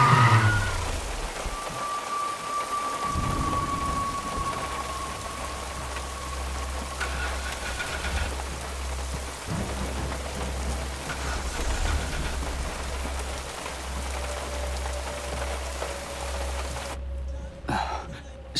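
Steady rain falls in a forest, a constant hiss broken by deep rumbles of thunder, with a faint engine-like tone in the background.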